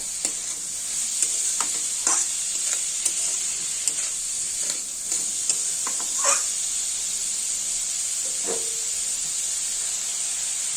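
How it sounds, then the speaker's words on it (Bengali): A spice mixture sizzles and fries with chopped vegetables in a pan as they are stirred for masala bread pakora, a steady hiss with occasional louder spatters and scraping stirs, close and without talk. "এবার মশলাটাকে এই সবজির সঙ্গে ভালোভাবে কষিয়ে নেব।"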